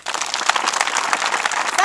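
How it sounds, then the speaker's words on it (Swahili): Audience applause at a school event held by a foundation in Serengeti district, a steady burst of many hands clapping close by for just under two seconds, with some voices mixed in. "Hebu mpigieni makofi."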